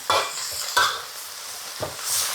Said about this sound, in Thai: ผัดเลยค่ะ ไฟแรงๆ นะคะ ผัดผักกระเฉดไฟแดงค่ะ